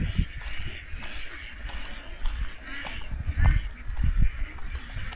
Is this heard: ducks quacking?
yes